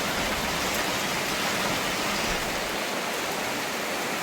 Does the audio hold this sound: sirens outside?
no